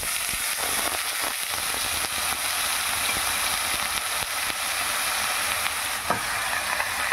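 Grated papaya sizzles steadily in a hot pan with cumin and oil, a dense continuous frying hiss with a few faint stirring clicks throughout.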